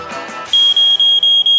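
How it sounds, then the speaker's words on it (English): A malfunctioning smoke detector sounds a piercing, high electronic beep in rapid repeated pulses, loud and close, after a brief murmur of room noise. "Code 16, malfunctioning smoke detector."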